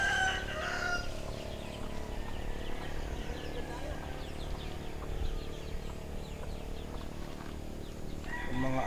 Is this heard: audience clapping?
no